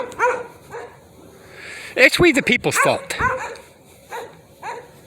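Neighborhood dogs bark in several loud bursts near the middle of the clip, with someone talking over and between the barks.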